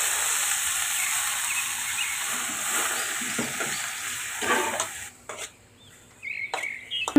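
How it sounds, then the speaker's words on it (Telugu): Washed gongura leaves frying in hot oil give a steady, close sizzle and hiss with occasional stirring scrapes, dropping away near the end before a few sharp clicks. "ఆయిల్ వేడెక్కాక ముందుగా కడిగి పెట్టుకున్న గోంగూరని వేసుకున్నాం."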